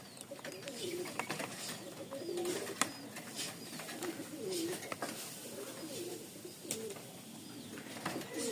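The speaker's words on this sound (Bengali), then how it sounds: "কারণ ছাড়া কবুতর ছটপট করতেছে।" Giribaz pigeons coo repeatedly at close range, soft throaty calls recurring every second or so over rustling and fluttering movement.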